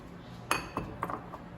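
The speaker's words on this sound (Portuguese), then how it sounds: "Primeiro eu bato os ovos." Eggs are beaten by hand in a bowl for a marbled cake, giving a few sharp, close clinks of utensil against the bowl, irregular and separated by short quiet gaps.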